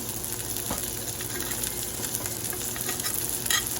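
Butter foaming and sizzling in a cast iron pan around a ribeye steak, a steady close crackle with a brief louder burst near the end and no talking.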